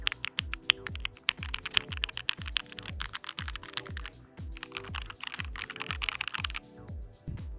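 Typing on a GamePro Keychron mechanical keyboard gives steady, clicky keystrokes in a quick, even rhythm, close and fairly quiet, with nothing else over them.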